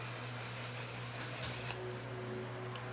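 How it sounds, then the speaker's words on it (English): Mattifying waterproof setting spray misted onto a face, a loud continuous close-up hiss that stops abruptly partway through. "I'm going to go in with my handy dandy one size on till dawn mattifying waterproof setting spray"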